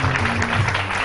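Studio audience clapping on a morning talk show, a brief dense burst of applause with a low hum beneath it, moderately loud and without speech.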